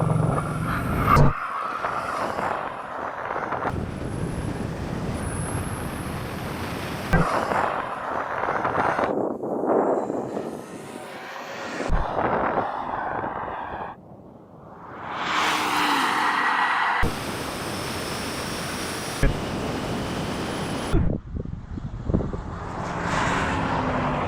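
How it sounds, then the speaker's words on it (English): A 1600-horsepower Bugatti and a Tesla Model S Plaid drag racing over a standing quarter mile, with loud engine roar and rushing wind noise that shift abruptly between passing and onboard views. "I'm going to race them over the standing quarter mile."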